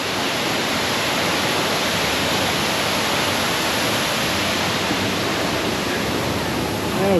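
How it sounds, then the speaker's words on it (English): Big waterfall in a bird park in Singapore, a dense, constant roar of falling water that stays loud and unbroken throughout. "I was wondering when we were going to meet the big waterfall."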